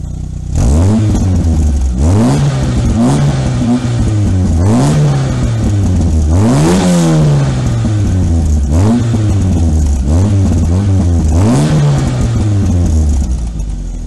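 Volkswagen Scirocco with an aftermarket single-silencer exhaust and twin oval tips, revved repeatedly from idle in a series of loud, sharp rising and falling blips, close and alone.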